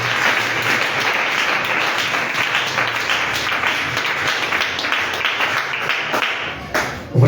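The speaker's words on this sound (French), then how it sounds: "Acclamons une fois pour notre Seigneur." A church congregation applauding steadily throughout, a dense, loud wash of many hands clapping with no pause, swelling briefly near the end.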